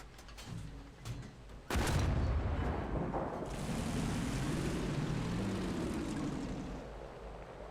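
Ostwind anti-aircraft gun firing in War Thunder, a loud sustained burst of rapid gunfire that starts abruptly after a couple of seconds and rumbles on steadily, with engine drone beneath and no talking.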